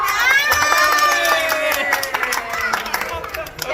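A family group claps and cheers during an outing, with quick irregular claps and excited voices, including children's, talking and shouting over them.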